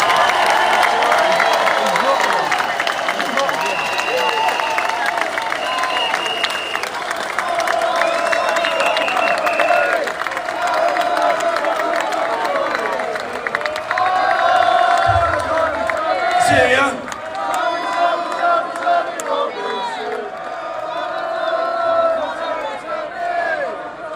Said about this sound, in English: let's have a round of applause for Tommy Robinson